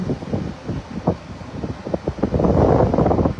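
Strong gusting wind at the height of Typhoon Uwan, roaring and buffeting the microphone in uneven surges that swell louder toward the end, with no one speaking.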